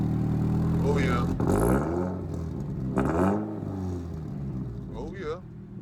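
A Toyota GR86 fitted with an AWE Touring catback exhaust revs loudly and close, with three distinct rising-and-falling sweeps over a steady engine drone.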